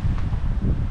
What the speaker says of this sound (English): It's fucking windy and rainy.